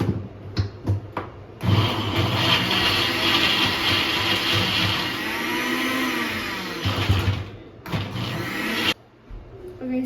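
Mixer grinder whirring as it blends yogurt, cashews and pistachios, a loud sustained motor drone running in long bursts with short stops and restarts between, no talking.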